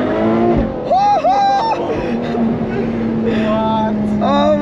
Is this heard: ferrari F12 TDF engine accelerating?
yes